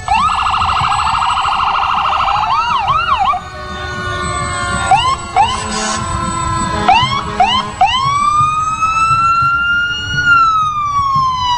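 Fire department ambulance and command vehicle sirens wail and yelp in a parade, cycling through rising-and-falling tones and short whoops before settling into a long rising wail, close and loud.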